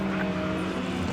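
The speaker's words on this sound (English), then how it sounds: "Russ Gorchowski, he's in the 2018 Porsche GT3." Race cars at Daytona International Speedway, including a 2018 Porsche GT3 and a 1995 M3, roar loud and steady with a sustained engine drone, close and continuous.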